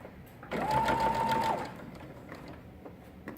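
A sewing machine stitches fabric for burp cloths in one steady whirring burst of about a second, then stops, leaving quiet room sound.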